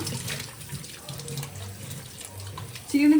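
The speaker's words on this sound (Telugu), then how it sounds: "ఇక ఫస్ట్ నీళ్ళతో కడిగితే ఈ మక్కిర అంతా పోతుంది చూడండి" Tap water runs over raw meat being washed in a sink to rinse off salt, turmeric and lemon, a soft continuous splashing that surges louder near the end, close by with no talk.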